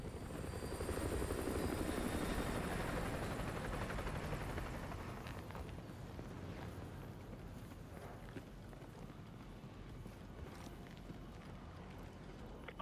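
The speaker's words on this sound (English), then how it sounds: "Enemy helo patrolling the perimeter." An enemy helicopter patrols in the Call of Duty Modern Warfare 2 Remastered game. Its continuous rotor drone is loud at first and then eases slowly into a fainter, more distant hum, with faint footsteps beneath.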